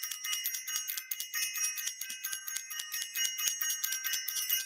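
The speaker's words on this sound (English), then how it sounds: "Where is my bell? Where my bell at?" A small hand bell rung rapidly and continuously, bright rhythmic tinkling strokes with a couple of brief pauses, moderately close and alone.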